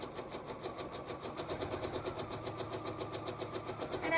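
A sewing machine runs steadily while stitching long straight seams to join quilt rows, a continuous close whirring hum with a fast rhythmic needle chatter and no talk.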